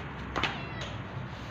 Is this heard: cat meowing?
yes